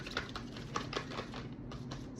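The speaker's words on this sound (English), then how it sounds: "These ones are pretty hard to shuffle." A stiff deck of cards being shuffled by hand during a zodiac reading, making a soft close-up riffling patter of quick ticks that repeat in short bursts, with no talk.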